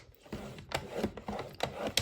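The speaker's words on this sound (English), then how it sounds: "Just scoring both sides just because we want to make" Paper being scored with a tool along a marked line, making soft, close scratchy rubbing strokes in a quick irregular rhythm, quiet and heard alone.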